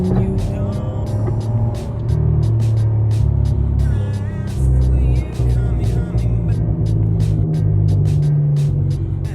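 A car engine revs close by in loud, rising and falling surges over a deep rumble, with a voice briefly audible over the engine noise.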